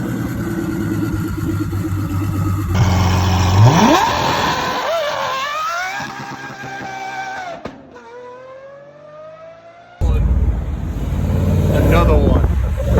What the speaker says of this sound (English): you don't got to question if my F12's twin turbo